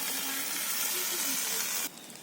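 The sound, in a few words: chopped eggplant and potato sizzling in spiced oil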